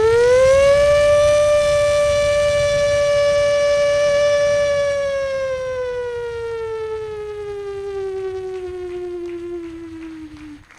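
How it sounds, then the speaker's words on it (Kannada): Factory siren giving one long, loud, steady wail near the start, then slowly sinking in pitch and fading, alone without talk. "ಮಲ್ಲೋ ಫ್ಯಾಕ್ಟ್ರಿದ ಸೈರನ್ ಅಂಡ"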